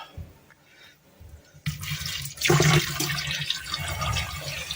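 Cold well water gushes from a tap over a raw chicken fillet, starting after a quiet moment and building into a loud, continuous splashing rush with no one speaking.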